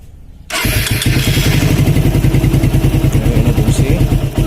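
A motorcycle engine fitted with a homemade kill switch and quick-throttle mod starts up and settles into a loud, close, rapid even idle with a steady rhythmic chug and metallic clatter.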